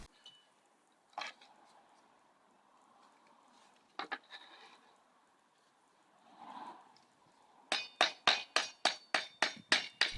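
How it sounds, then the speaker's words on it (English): Slate being cut with the edge of a bricklaying trowel: a few sparse, sharp strikes at first, then a rapid, regular run of about ten close, crisp taps. "You can see I'm not trying to blast through in one, multiple careful strikes are perfectly fine."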